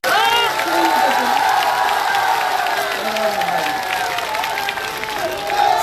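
A large rally crowd claps steadily for former chief minister Vasundhara Raje at Dhorimanna, a continuous dense roar of hands with cheering and a voice speaking over it.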